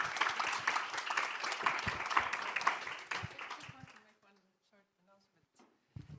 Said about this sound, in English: So a big round of applause to Kaisu,